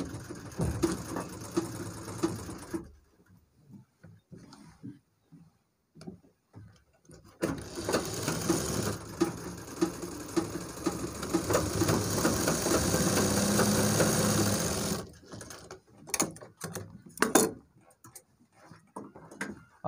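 A sewing machine stitches piping on a trouser back pocket in short rattling bursts, then runs in one long steady stretch before stopping and starting again in brief spurts, close and loud.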